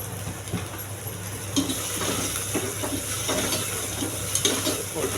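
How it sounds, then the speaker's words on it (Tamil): Onion and tomato with rock salt fry in a pan for sundakkai kulambu, making a continuous sizzle broken by frequent stirring scrapes and pan knocks, with no voices. "குழம்புக்கு தேவையான உப்பு போட்டு வதக்குங்க"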